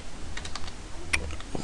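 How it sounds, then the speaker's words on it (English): Typing on a computer keyboard while signing up for a Google account, a short run of light, quick key taps at close range over a faint steady background hum. "Now I'm just gonna type in"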